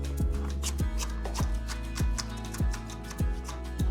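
Rhythmic knife chopping on a cutting board while mincing onion for beef bulgogi, steady close strokes about every half second with faint kitchen background, no talking.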